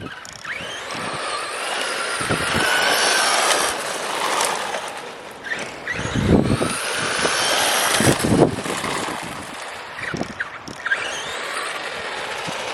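A radio-controlled car fitted with a 35-turn brushed motor drives around, its motor whine and tyre rumble rising and falling in bursts over a steady windy background.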